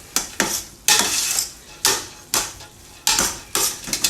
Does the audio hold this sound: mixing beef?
yes